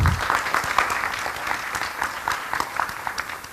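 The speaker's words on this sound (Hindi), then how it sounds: "इनके लिए जोरदार ताली बजाइए।" Theatre audience at a stage performance in Jabalpur breaks into sustained, dense clapping, a steady crowd applause filling the whole moment at close range.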